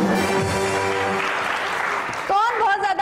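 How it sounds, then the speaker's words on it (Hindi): A studio audience claps for two contestants in a short burst of applause, mixed with a voice and tonal sounds before and after. "दोनों के लिए बहुत सारी तालियां आई है।"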